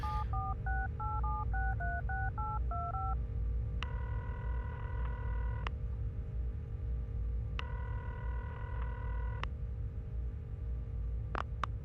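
Payphone keypad dialing in the video game Serious Sam, a payphone inside a UFO: a quick run of short two-tone beeps, then longer steady ringback-style tones repeating, over a constant low background hum, with no talk.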